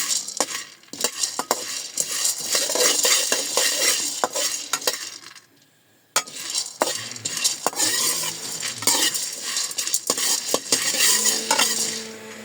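Peeled chickpeas dry-roasting in a pan are stirred briskly, producing a busy, close scraping and rattling with faint sizzle, broken by a brief pause midway before the stirring resumes.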